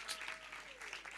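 Brief tail of audience applause at a conference session, a short patch of scattered clapping from a crowd, faint and distant.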